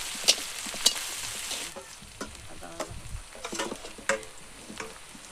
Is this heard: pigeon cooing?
no